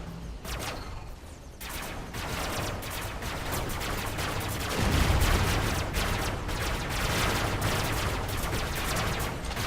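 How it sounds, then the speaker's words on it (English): Dense continuous gunfire in Robocraft, shots pelting the player's robot from above, a loud unbroken rattle with a heavier impact thud around five seconds. "Somebody is shooting me from above."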